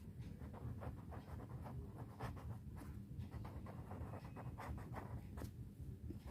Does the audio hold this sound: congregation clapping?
no